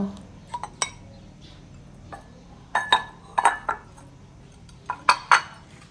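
Clinking of a utensil against a bowl while banana fritter batter, mixed with melted butter and liquid, is stirred; sparse, irregular taps and scrapes, some in quick clusters, heard close and alone.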